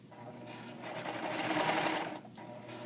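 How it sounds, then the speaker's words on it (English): A serger overlock machine stitches knit fabric in one short burst, its whirring hum rising and falling up close, with the motor running briefly again at the end. "on the serger, you want to be careful not to cut off excess fabric"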